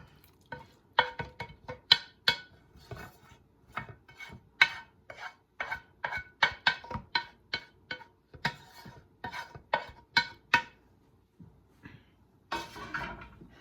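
Spoon stirring onion and garlic into tomato sauce in a crock pot, a quiet rhythmic series of scraping, rubbing strokes at close range, repeated steadily with short pauses, no talking.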